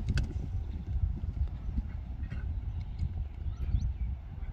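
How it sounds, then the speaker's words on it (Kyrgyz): Horse galloping on open ground, its hooves giving a fast, uneven clip-clop over a rough, rumbling low background, moderately near and without clear talk. "Азыр чабат экенбиз, аттын чуркаганын көрөт экенбиз."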